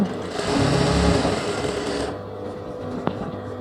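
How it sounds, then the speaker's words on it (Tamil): A sewing machine stitches salwar pant fabric in a fast, steady mechanical whir for about two seconds, then stops and leaves quieter background hum with a small click, close and distinct, no talking. "மேலே அப்படியே ஊசியோட ஒரு தையல் போடுறேன்"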